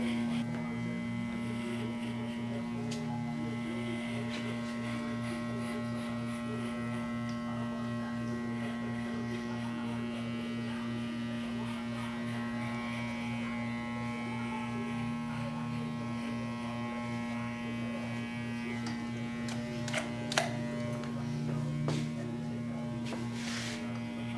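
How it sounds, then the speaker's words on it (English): A 5-star balding hair clipper runs during a high skin fade haircut, giving a steady close electric buzz with a strong constant hum that holds for the whole stretch, with faint handling clicks near the end. "I got my 5-star balding clipper"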